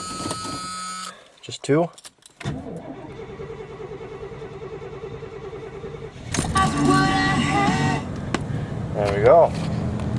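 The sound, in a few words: 1981 Chevy G30 RV V8 engine cold starting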